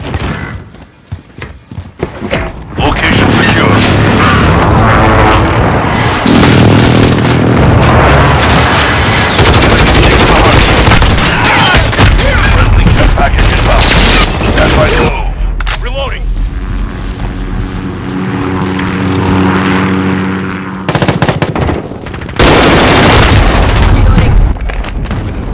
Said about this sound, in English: Enemy missile in the airstrike inbound.